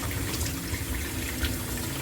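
Water runs steadily from a kitchen tap while red lentils are rinsed for a Jamaican curry soup, a continuous broadband splashing rush at moderate level with no talking.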